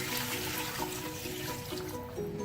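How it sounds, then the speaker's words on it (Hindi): A large amount of water poured into a cooking pot for broth gives a continuous gurgling trickle, close and steady, with a rising filling tone. "और इसके साथ साथ हम ऐड करेंगे ढेर सारा पानी"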